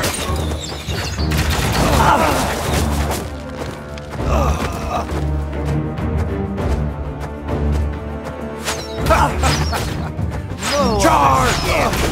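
Gunfire volleys crack and crash in the battle video game Road to Valor, a dense busy mix of shots and impacts running throughout, layered under music and battle noise with some vocal sounds.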